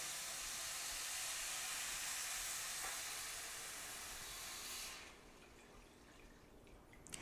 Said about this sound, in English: So get ready for a little splash of water.